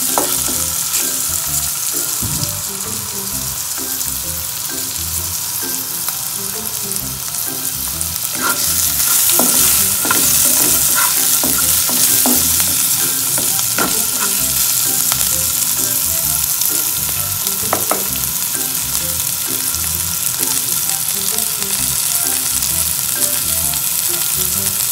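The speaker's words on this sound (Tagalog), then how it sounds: "Antayin lang natin medyo maluto yung ating onion." Onions frying in a pan for a sardine dish, a steady close sizzle running throughout, growing louder partway with occasional stirring clatter and pops, no talking.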